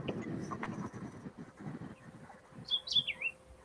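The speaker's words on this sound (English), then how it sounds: "Oh, now the birds, I hear they back." Birds chirp outdoors, a few faint high tweets near the end over a soft, rumbling background.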